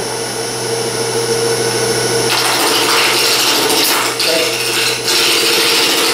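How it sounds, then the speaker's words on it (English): A wood lathe turns a walking cane blank, a steady loud mechanical hum and whir that swells into harsher broadband rushing partway through as the tool bites, with no talking. "The wheels are turning, my wheels are turning, the lathe is turning, everybody's turning."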